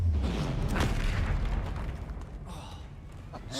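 Confringo explosive spell blasts in the Hogwarts Legacy video game, a loud low rumbling boom that swells and slowly fades amid spell-combat effects, with a brief faint voice.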